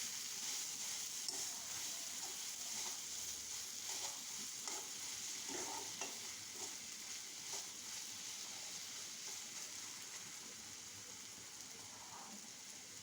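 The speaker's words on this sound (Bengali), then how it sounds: "কিছুক্ষণ রান্না করে এখন নেড়ে চেড়ে দিচ্ছি।" Ash gourd leaves being stirred as they fry in a pan, a soft steady sizzle with faint scraping, continuous and fairly quiet throughout.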